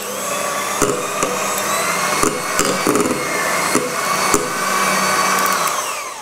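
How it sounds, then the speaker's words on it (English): An electric whisk whirs steadily while mixing cake batter for a Halloween cake, a continuous motor drone with several sharp clicks and knocks of the beaters against the bowl, fairly close and without talk. "Give that another quick whisk and then I think we're done."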